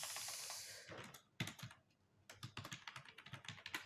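Someone types code into an HTML file on a computer keyboard. After a brief hiss, quick close keystrokes come in uneven bursts, soft and clicky, with no voice over them.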